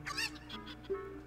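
Cucco chickens cluck in the Zelda: Ocarina of Time video game, a couple of quick, faint squawks over a soft, steady background tone.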